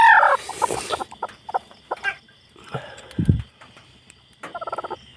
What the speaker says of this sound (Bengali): এই যে দেখুন দুইটা মুরগি কুচে বসাইছে এতগুলো ডিম দিয়া